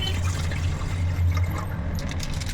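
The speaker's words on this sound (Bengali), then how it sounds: "এবার আমি দুধটা ঢেলে দিচ্ছি" Milk pours steadily from a cut packet into a pot while payesh is prepared, a continuous close liquid rush lasting a couple of seconds, with no one speaking.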